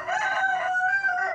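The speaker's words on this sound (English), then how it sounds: "I'm here on a beautiful chicken farm, surrounded by chickens." Chickens on a chicken farm, a loud nearby rooster crow lasting over a second, with layered drawn-out calls and no talk.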